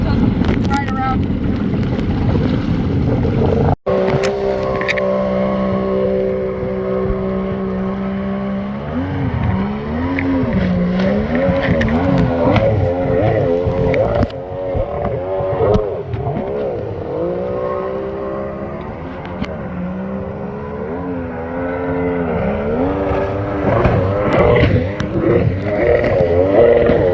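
A motorboat and a jet ski run on a lake, their engines droning steadily and rising and falling in pitch throughout, mixed with wind buffeting the microphone, while voices talk over them.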